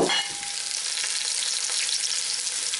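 Hog testicles sauté in a hot pan with a loud, steady crackling sizzle and light stirring, close and continuous with no talk.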